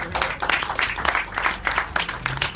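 An audience at the tenth-anniversary Bergenfield Film Festival claps, a close, fairly loud burst of applause with uneven, pulsing swells over a couple of seconds.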